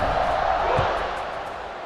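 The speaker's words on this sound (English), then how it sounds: "this crowd now ready to get behind them." A stadium crowd in EA Sports College Football 26 roars as a broad, steady wash of noise just before a kickoff, holding loud and even for the whole stretch, then easing slightly toward the end.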